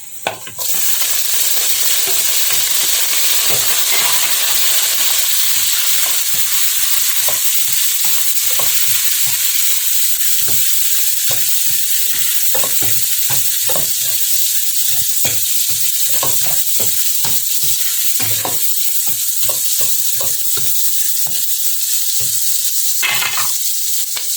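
Onions fry with a loud, steady sizzle in a pan for mussels sautéed with vegetables, while a utensil scrapes and stirs in frequent irregular strokes; no voices.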